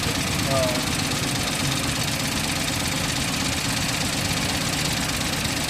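A Toyota engine, likely an Innova 2020 or Wigo, runs and shakes hard on a broken, worn mount, giving a steady dense rumble with a knocking vibration throughout. Voices talk over it.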